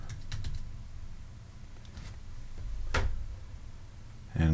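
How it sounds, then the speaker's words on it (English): A few light taps on a computer keyboard come in quick bursts at the start and around the middle, close but soft over a low steady hum, with a sharper knock at the end. "So here I'll just type in Daw Fader"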